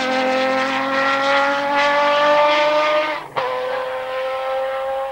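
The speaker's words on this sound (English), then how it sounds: "I had the opportunity to drive a Jaguar at the Silverstone racetrack, very flat and very fast." A Jaguar sports racing car on the flat, fast Silverstone track screams loudly with a high, harmonic engine note that slowly drops in pitch, then breaks off with a sharp jolt and resumes lower.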